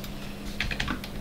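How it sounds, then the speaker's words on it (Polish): Soft computer keyboard typing in the background, a short cluster of quiet key clicks over a low steady hum. "przepraszam, jeżeli będzie słychać moją klawiaturę w tle."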